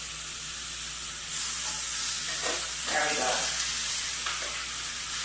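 Pork tenderloin hits a hot skillet with a loud, steady frying sizzle that swells into bursts of crackling partway through, while a voice speaks briefly over it.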